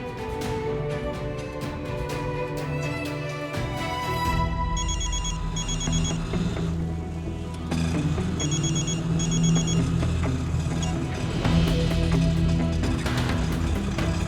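A phone rings out during an outgoing call in a Hindi TV drama: two separate sets of quick electronic beeping pulses sound under a continuous, loud dramatic music score.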